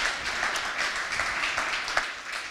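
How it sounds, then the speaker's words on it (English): An audience at a brewery talk applauds a brewer from Double Shift Brewing in Kansas City, a brief, moderately loud patter of many hands clapping at a steady level. "Well, Aaron from Double Shift, round of applause."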